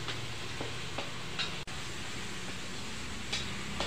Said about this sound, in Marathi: बटाटा टाकला मी लालसर सोनेरी कलरचा होईपर्यंत तळायचा छान